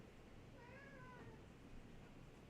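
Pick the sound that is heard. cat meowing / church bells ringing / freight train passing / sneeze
cat meowing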